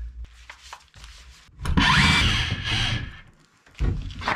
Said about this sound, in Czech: Tak, vyvrtáme ty díry.